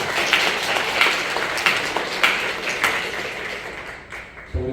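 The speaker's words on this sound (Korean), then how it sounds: "우리 지호 좀 빨리 나올 수 있도록 박수 부탁드리겠습니다." A church congregation applauds in a sanctuary, an even wash of many hands clapping with a few sharper claps standing out, ending abruptly near the close.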